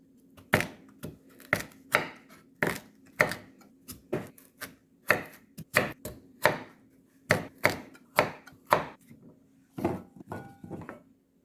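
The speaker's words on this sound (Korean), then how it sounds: "이제 고구마를 좀 잘라 볼게요." A knife chops through sweet potato on a cutting board, about twenty sharp, evenly paced strokes, close and clear with brief pauses.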